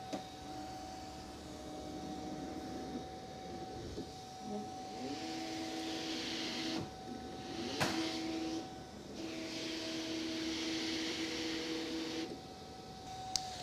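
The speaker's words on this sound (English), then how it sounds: "press the load unload button, and it is going to measure the length of my mat." A Cricut Venture cutting machine measures a loaded mat, giving a steady electric motor whine with pitch shifts as the carriage moves and pauses. A faint high hum runs throughout, with no talking.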